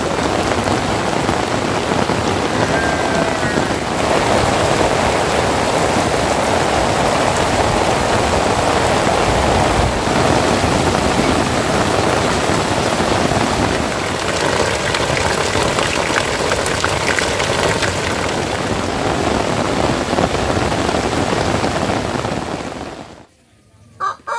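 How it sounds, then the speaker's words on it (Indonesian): Heavy rain pours steadily in a rural Indonesian village, a dense continuous hiss of drops on surfaces with faint fowl and a distant engine in the background, ending abruptly. "Alhamdulillah hari ini turun hujan ya"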